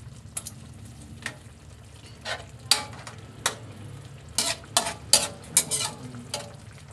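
Three long chilies fry in a pan alongside milkfish with salted black beans, a steady low sizzle broken by sharp scraping and clinking stirs that pick up toward the end.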